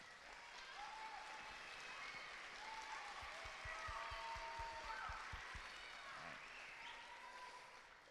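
Audience at a middle school band concert applauds steadily for standing solo and ensemble students, a dense sustained clatter of many hands with faint murmurs and a few low thumps beneath.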